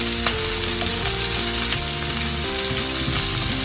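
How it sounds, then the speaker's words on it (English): Onions fry in a pan for a gravy, a loud, close, continuous sizzle broken by the scrape and rattle of stirring, with no voices. "You will just fry it a little. Let it be golden brown."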